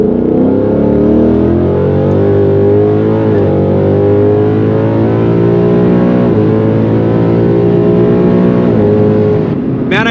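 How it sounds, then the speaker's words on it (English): A Ford Mustang S650 pulls hard at wide-open throttle, its engine note climbing steadily through the high revs with several brief shift dips along the way, loud and close throughout, ending in a short lift-off. "I just wanna do one more watt pull just to see how it shifts in the higher RPM bands"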